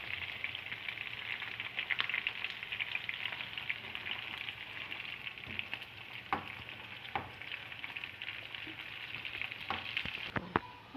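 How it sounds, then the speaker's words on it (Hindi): Onions browning in a frying pan for a spiced Indian snack, giving a steady, close sizzle with occasional crackles and pops over about eleven seconds, without any talking. "दूसरी तरफ हमारी जो है वो प्याज ब्राउन हो रही है"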